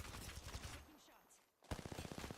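Rapid bursts of automatic gunfire in the online shooter game Fallout 76, dense and loud at first, dropping away briefly, then a fresh volley of sharp repeated shots resuming close by.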